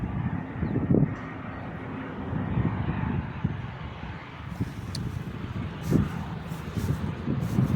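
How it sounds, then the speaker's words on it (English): An airplane flies in toward a nearby airport, droning steadily in the distance, a broad low engine rumble with a few faint knocks and clicks over it. "we have an airplane flying in right here."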